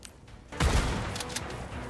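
A shotgun fires in the video game Resident Evil 4 Remake, one loud booming blast followed by a lingering rumbling tail and faint echoes, with no talk over it.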